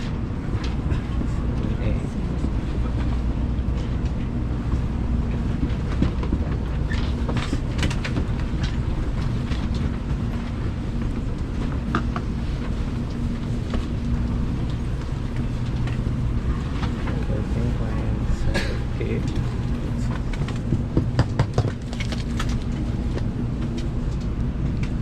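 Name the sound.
Shinkansen bullet train moving, Osaka to Hiroshima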